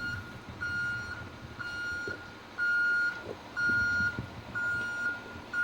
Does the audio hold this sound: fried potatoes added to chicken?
no